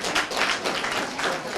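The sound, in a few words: audience clapping for the school matron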